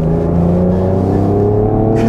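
A 2023 Ford Ranger Raptor pickup engine revs and pulls hard, a loud continuous droning roar held steady as it accelerates, heard from close inside or beside the truck.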